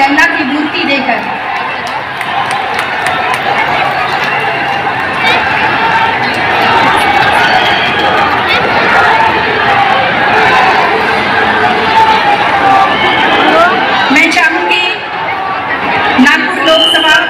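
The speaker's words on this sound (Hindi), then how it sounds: "लोकांचे जल्लोष पहा तुम्ही." A large crowd at Prime Minister Modi's rally in Kanhan, Ramtek, roars and cheers steadily as he makes his entry. The mass of voices stays loud and continuous, with shouts and whistles, and a commentator talks over it.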